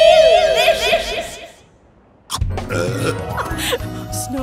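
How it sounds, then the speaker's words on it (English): A loud, long, gurgling burp after eating snow on a snowy mountaintop, heard up close after a stretch of high tonal music and a short quiet pause, followed by chuckling. "Snow burps."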